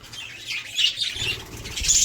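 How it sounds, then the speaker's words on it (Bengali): Chirping and fluttering from a pet baby bird in a bird house, with light tweets and wing flaps over soft low rumble, close and fairly quiet. "আর একটা পাখি বাচ্চা পাখি দেখাচ্ছি"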